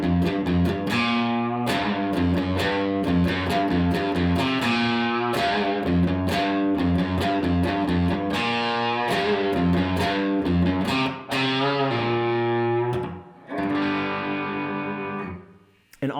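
A distorted, effects-laden electric guitar plays a riff slowly and evenly, the notes bright and sustained over a continuous stretch, ending on a held ringing chord that fades out.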